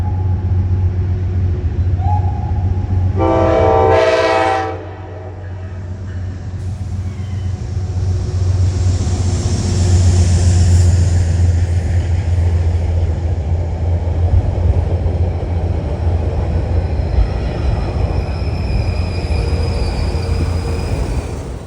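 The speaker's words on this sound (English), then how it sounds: "Here comes a Danbury train, 1860." A Metro-North Danbury train arrives at Harlem 125th Street station on a busy evening, a loud sustained rumble and rail roar with a brief horn-like tone early on, and no talking.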